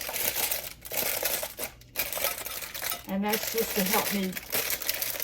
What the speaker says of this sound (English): And I'm going to put some paper in here. This is parchment paper.